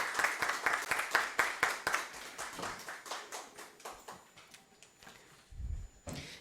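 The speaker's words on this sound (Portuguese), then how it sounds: "Uma salva de palmas para ela também" Scattered clapping from a small audience at a gathering, distinct individual claps thinning out over several seconds, then a low thump near the end.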